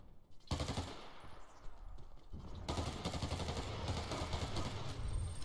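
Machine gun fire in the video game Dirty Bomb sounds off in long rapid bursts, loud and close, with a brief gap early on before sustained automatic firing.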